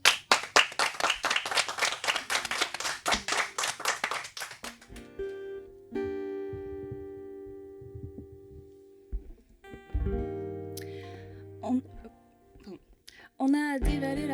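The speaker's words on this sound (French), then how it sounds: "Encore une fois, sous vos applaudissements." A French television studio audience claps briskly in rhythm for about five seconds before a pop cover of Thérapie Taxi's 'Été 90' begins with sustained, quiet musical tones.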